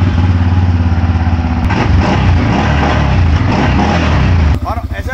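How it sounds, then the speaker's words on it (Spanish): A CFORCE 600 ATV with its stock factory exhaust starts up and revs, a loud, close engine note that rises after ignition and holds steady, then cuts off near the end. "ese es el sonido de factoría, con el tubo escape de factoría."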